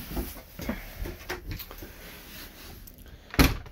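A door inside a 2022 Burstner Lyseo 736G Harmony Line motorhome is handled with several soft knocks and rattles, ending in a sharper closing thump, near and without talk.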